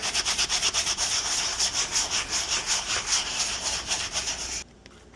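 Steady, rhythmic rubbing strokes cleaning the worn, paint-chipped surface of a dirty Louis Vuitton wallet, close and continuous for several seconds before stopping abruptly near the end.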